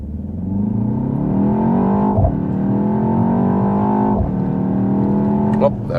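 A BMW X2 M35i with a turbocharged four-cylinder accelerates hard from a rolling start. Loud engine drone rises steadily through two quick gear shifts, heard from inside the car.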